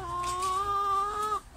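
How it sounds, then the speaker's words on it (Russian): A rose-combed rooster gives a single clear, drawn-out call lasting just over a second, close and fairly loud, against a quiet farmyard background. "Вот петушок, он с розовидным гребнем."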